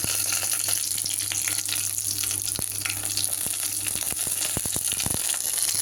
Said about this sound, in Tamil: சுண்டல் தாளிக்கிறதுக்கு எண்ணெயில் கடுகு போட்டு 2 பச்சை மிளகா, கருவேப்பிலை,